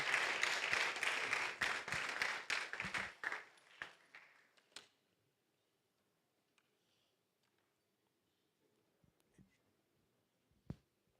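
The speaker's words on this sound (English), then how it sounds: "A round of applause for our Vice Dean, Professor Howard." An audience at a Department of Publishing Studies colloquium, part of a 40th anniversary event, applauds its Vice Dean, Professor Howard. Dense, steady clapping fills the room for about five seconds, then fades into near silence broken by a few faint knocks.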